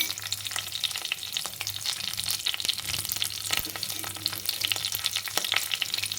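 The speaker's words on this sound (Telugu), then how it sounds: "మినపప్పు, ఆవాలు, ఎండుమిర్చి, జీలకర్ర, కొద్దిగా కరివేపాకు యాడ్ చేద్దాం" Urad dal, mustard seeds, dried red chilies, cumin and a few curry leaves fry in hot oil, giving a steady close sizzle with crackling pops and light stirring throughout.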